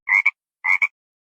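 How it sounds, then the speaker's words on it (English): Two short frog croaks, each a clipped double pulse, sound close and clear against silence with a brief gap between them. "Frog."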